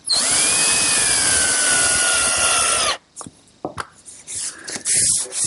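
A power drill drives 2-inch screws with washers into a Queen Anne table in a woodworking shop, a loud high whine for about three seconds, then short clicks and a brief second burst, close by.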